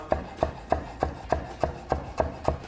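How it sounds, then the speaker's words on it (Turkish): Fresh dill chopped with a knife on a board, about nine crisp, evenly spaced close knocks in a quick steady rhythm with no talk. "Dereotumuzu da doğrayalım orada."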